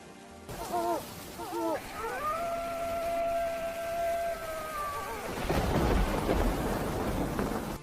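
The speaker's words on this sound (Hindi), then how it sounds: "बारिश अब अपना और विकराल रूप ले चुकी थी।" Rain hisses steadily while a cat yowls in drawn-out wails, and a low rumble of thunder swells near the end.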